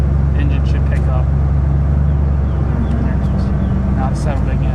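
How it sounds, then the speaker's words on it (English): A restored 1994 Ford F150 engine runs with the air conditioning switched on, a steady low hum and drone held throughout while people talk over it in the cab. "You hear it when you turn the AC on. The engine should pick up."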